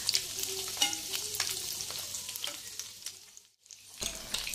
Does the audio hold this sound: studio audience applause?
no